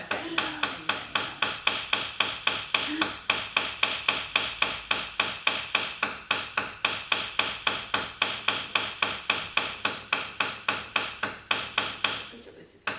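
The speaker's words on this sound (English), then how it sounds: "the round hammer will spread the metal from all sides" A round hammer strikes silver metal for jewellery in a steady rapid series of sharp, loud, close metallic blows, roughly four per second, keeping up for about twelve seconds before stopping.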